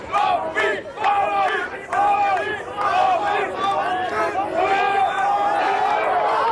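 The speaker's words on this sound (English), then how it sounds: "The crowd is shouting Ab on." A crowd of Dutch supporters at the 1988 World's Strongest Man contest in Hungary shouts repeated loud, rhythmic chants of encouragement in bursts, filling the whole stretch.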